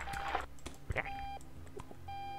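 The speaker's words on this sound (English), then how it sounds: "turn off the alarm clock" An alarm clock beeps in the video game Octodad, giving short repeated electronic tones among soft clicks and game noise, fairly faint and with no talking.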